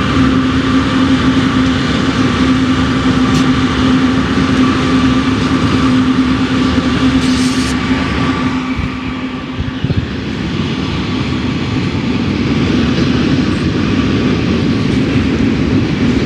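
A long, droning train horn hangs in the air, steady and loud, reverberating as it fades into a rumbling echo.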